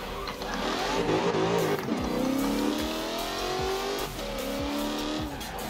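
Dodge Viper in Forza Horizon 4, its engine revving through shifts with tires squealing and skidding, a loud continuous racing-game car sound with no talk.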